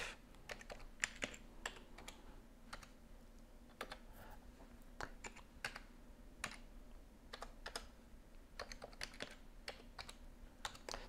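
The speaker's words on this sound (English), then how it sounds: "fancy one finger typing" Slow, irregular one-finger keystrokes tap on a computer keyboard, one key at a time with uneven pauses, quiet and close with no talking.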